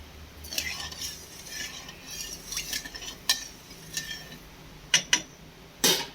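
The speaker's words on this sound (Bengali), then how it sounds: "চিনিটাকে মেল্ট করে নিতে হবে তো তাই নেড়ে নিচ্ছি আমি" A spoon stirs sugar into water in a pot so the sugar melts, making soft, scattered metallic scrapes and clinks, with a few sharper, louder taps near the end.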